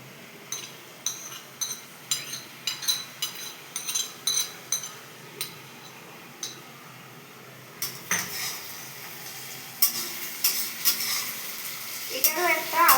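Ginger paste and spices being stirred in a metal pan for chicken curry, a spoon scraping and clinking against the pan in a steady run of repeated strokes, close and clear, with a faint sizzle underneath.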